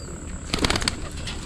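Birds flapping their wings as they take off from coconut trees: a short flurry of wingbeats, close and moderately loud, over steady outdoor background noise.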